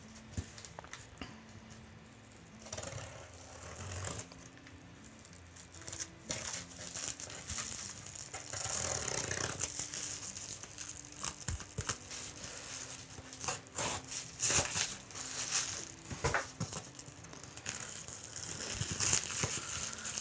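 Packaging is torn open by hand with irregular crinkling, rustling and rubbing of wrapping material, plus scattered sharper crackles and small thumps. It is faint and nearby, with no speech.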